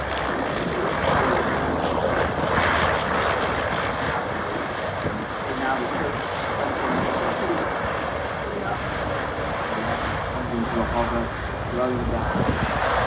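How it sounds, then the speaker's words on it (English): A hybrid drone aircraft, part helicopter and part fixed-wing, roars overhead at an airshow with a whirring propeller note, loud and continuous throughout, with faint voices now and then underneath. "somewhere between a drone, a helicopter, and a fixed-wing aircraft"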